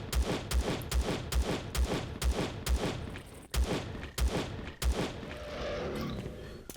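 Rapid bursts of gunfire from the sci-fi survival game Empyrion Galactic Survival, about ten sharp evenly spaced shots fired in quick succession, loud and close, trailing into a quieter ambient hum.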